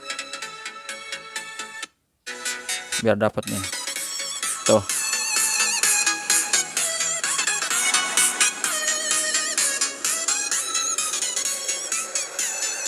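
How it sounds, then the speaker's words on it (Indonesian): A Samsung Galaxy A73 5G speaker plays a royalty-free music track at full volume, dense and continuous after a brief gap near the start, with a few short spoken words over it. "Kalau mau dengar suara speakernya boleh ini kita tes aja"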